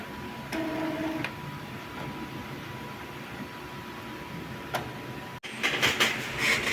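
An Epson L3210 inkjet printer runs a print job after nozzle cleaning: a steady mechanical whir with clicks and short tonal motor passes, then a louder burst of rapid rattling near the end, heard up close without talk.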